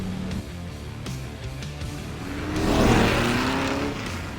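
A bare-chassis M6GT custom car with no body drives on a road, its engine droning steadily up close and then swelling in a loud surge of acceleration before easing off.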